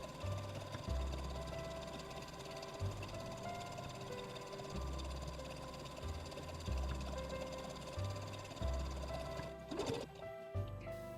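A sewing machine stitches over fabric for a Christmas tree project in a steady, low mechanical whir with repeating pulses, fairly quiet and continuous, with a brief pause near the end.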